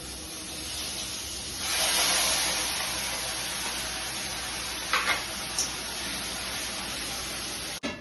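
Ground masala paste with green chili dropped into a hot pan, a loud hissing sizzle that swells then settles into steady frying, with a few brief clinks of utensils near the end.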